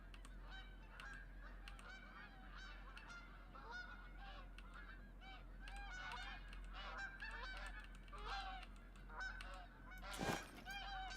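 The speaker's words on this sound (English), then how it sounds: "That looks like snow geese." A flock of snow geese honking at a hunting spot in Askiy Ridge, Alberta: a continuous chorus of overlapping, fairly distant calls over a low steady hum, with one sharp thump near the end.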